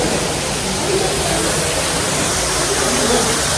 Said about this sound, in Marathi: पाठीमागे एकदम झरणा सुद्धा आहे पाण्याचा